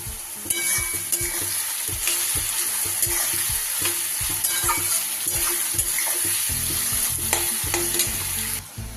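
Onions frying in oil for a Bengali mutton curry with potatoes, a steady close sizzle with frequent scraping stirs of a spatula against the pan throughout, no voices.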